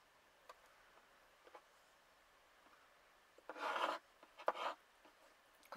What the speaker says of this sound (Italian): Praticamente taglio a pezzi e poi tolgo la parte della polpa.